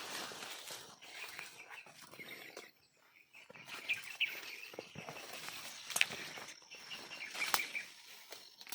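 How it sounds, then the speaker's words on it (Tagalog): Several birds chirp and call at intervals against a soft outdoor background, with a few sharper calls standing out near the end. "Yan ang daming mga ibon"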